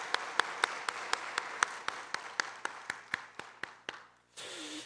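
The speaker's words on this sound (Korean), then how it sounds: "우리 한 번 더 할렐루야 찬양대 감사 격려의 박수 올려드리겠습니다." A church congregation claps in steady rhythmic unison to thank the choir after a hymn, the sharp claps evenly spaced and fading before a brief rush of noise.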